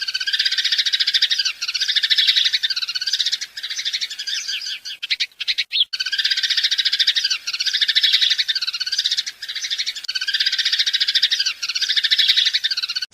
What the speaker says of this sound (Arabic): رابعا، طائر الدوري.